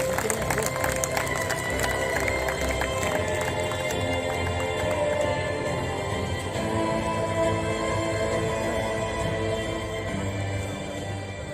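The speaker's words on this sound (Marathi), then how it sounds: "जोरदार टाळ्या" An audience at a business excellence awards ceremony claps for the honorees, a dense, sustained wash of applause mixed with crowd murmur and cheering that holds steady and fades slightly near the end.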